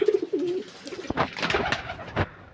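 Pigeons coo beside a nest holding two eggs, where a small water fountain has been set up; a few soft, low, rounded coos come close up, followed by brief rustling and splashy noise, with no talking.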